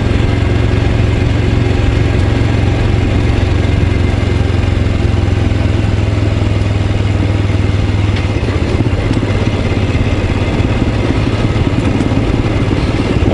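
A Royal Enfield Scram 411 motorcycle rides off road down a small unfamiliar lane, its engine droning loud and steady throughout with a low rumbling thrum and some clatter.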